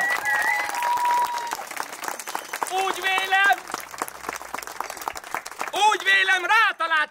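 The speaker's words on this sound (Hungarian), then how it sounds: "egy nagy tapsot kérek szépen!" Applause rings out at a wedding celebration in Hajdúdorog, a crowd's rapid clapping mixed with cheers and lively music, loud and close.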